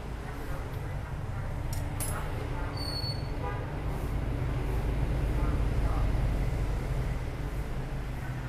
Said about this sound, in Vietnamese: mở xong em nổ máy cho anh em mình nghe luôn nha